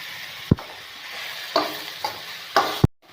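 Chopped ridge gourd with salt stirred in a hot pan, several sharp spatula scrapes and knocks over a steady sizzle, close and fairly loud, with no voices.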